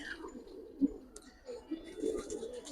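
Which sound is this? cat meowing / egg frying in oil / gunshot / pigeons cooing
pigeons cooing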